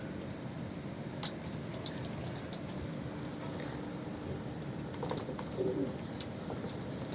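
Soft cooing from about 30 pigeons over a constant hiss of background noise, with a few faint chirps and taps scattered through.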